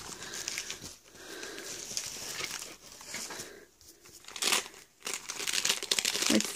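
Gift wrapping paper crinkles and tears as presents are opened, with uneven rustling and sharper rips rising and falling close by.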